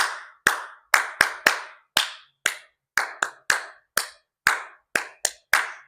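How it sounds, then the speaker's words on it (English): Hands clapping out the rhythm of a rhyme about donuts, about fifteen sharp, close claps in an uneven sung pattern with brief gaps, no speech. "We're just going to clap"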